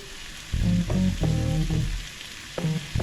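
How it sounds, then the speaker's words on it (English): Corned beef, mince, garlic and onions frying in a pan with a loud close sizzle, broken by scraping and mixing sounds, with no talking. "So I'm going to mix the corned beef in with the mince, the garlic and the onions."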